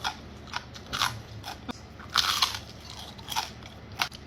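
Crunchy bites into battered fried tempeh mendoan with sausage in a flour coating, a series of sharp crisp crunches and chewing close up, about six distinct bites with no talking.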